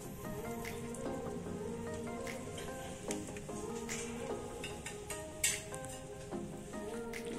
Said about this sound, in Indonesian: Masih ngalir airnya ya